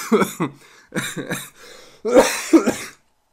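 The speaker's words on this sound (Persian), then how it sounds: "یا سرفه میکنید مثل من" Several harsh coughs and throat-clearing bursts in quick clusters, close and fairly loud, with short pauses between them.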